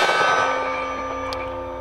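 A 10mm pistol round striking a large steel plate target, giving a single ringing clang whose bell-like metallic tone lingers and slowly decays with no talking.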